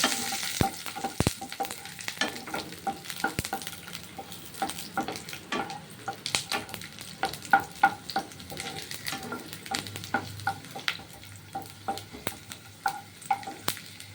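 Garlic fries in oil in a pan for a pumpkin-leaf bharta, with a soft sizzle and many sharp scrapes and taps of a spatula stirring close by. No one speaks.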